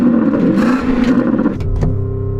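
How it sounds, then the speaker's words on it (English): A Porsche Cayenne Turbo GT revs close by in a loud, throaty engine roar that rises and falls, then drops toward a lower rumble. "So I'm going to rev up this Porsche."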